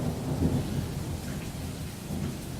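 Rain-and-thunder sound effect played at a work presentation: a steady low rumble of thunder with dense rain hiss, swelling and easing slightly across its length, fairly loud and without any voices.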